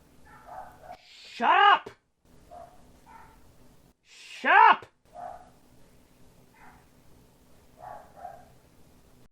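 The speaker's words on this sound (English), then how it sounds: "My dogs are barking." Two loud, sharp dog barks ring out a few seconds apart, with a person shouting over them and quieter talking and background hum in between.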